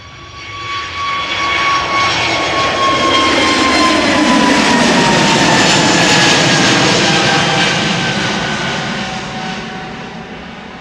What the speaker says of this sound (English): BA in the special livery going to London Heathrow.